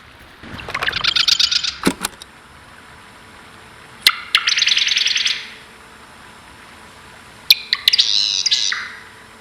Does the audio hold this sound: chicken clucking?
no